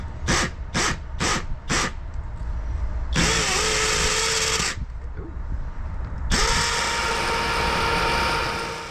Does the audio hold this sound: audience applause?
no